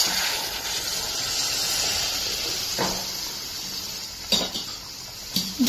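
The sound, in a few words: hot water poured into cooking dum aloo gravy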